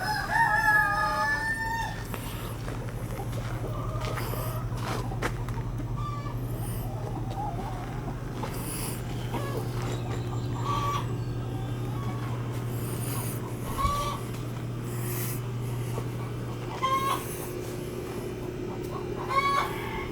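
Backyard chickens with a rooster, clucking and crowing repeatedly near and far over a steady low hum, the crows rising at irregular intervals throughout.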